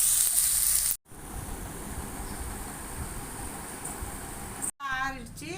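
Onions and spices sizzle in a pan while being sautéed for paneer butter masala, a steady hissing fry that runs on under brief speech.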